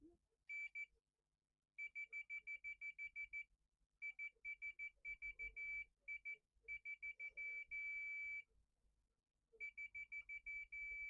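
Multimeter on continuity setting beeping while testing contact between laser level components, steady high-pitched tones in rapid repeated bursts, grouped in runs with short gaps, close and clear over quiet background.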